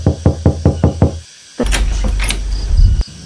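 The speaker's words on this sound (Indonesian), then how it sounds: "Ia mengetuk pintu." Six quick even knocks on a door, loud and close, followed by a short silence and then a sliding or creaking door sound.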